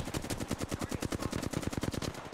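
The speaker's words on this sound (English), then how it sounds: "That's a gun." Rapid automatic gunfire from a gun in Apex Legends, a steady burst of evenly spaced shots running throughout, loud and close with no talk.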